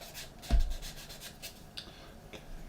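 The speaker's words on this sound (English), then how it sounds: "just taking the sanding stick, just going to sand off those edges" Short, soft rubbing strokes of a sanding stick against a small hard plastic model part edge, a few quick rasps close up, with one brief bump.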